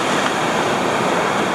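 Big ocean surf breaks and churns at Two Mile Bay beach on the Great Ocean Road, a loud continuous wash of roaring water with wind buffeting the microphone.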